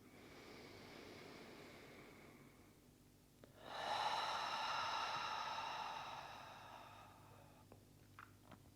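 During a gentle vinyasa yoga practice, slow deep breaths are drawn in and let out, a long airy exhale swelling and fading close up, preceded by a quieter breath, with no talking.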